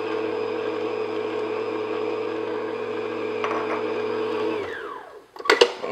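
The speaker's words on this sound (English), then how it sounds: "then I'm going to put the mixer on low and just slowly add the beaten egg into the butter and sugar." An electric mixer on low speed beats egg into butter and sugar with a steady whirring drone, then winds down and stops, followed by a couple of clinks.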